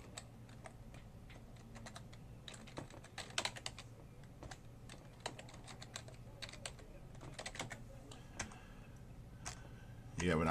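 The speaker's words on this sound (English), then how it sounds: "basically you just type in the email address you want to send it to" Steady clicking of keys on a computer keyboard as an email address is typed, a run of close, quick keystrokes over a low background hum with faint voices underneath.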